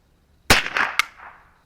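Ruger 10/22 rifle firing Remington Cyclone .22LR rounds at a target: a string of three sharp, close cracks about a quarter second apart, each ringing out briefly, with no talk.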